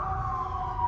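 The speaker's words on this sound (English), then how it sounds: "All these sirens and stuff." Distant emergency vehicle siren passing outside a garage, a steady faint wail sustained through a very brief moment with no other sounds.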